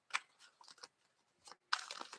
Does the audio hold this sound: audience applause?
no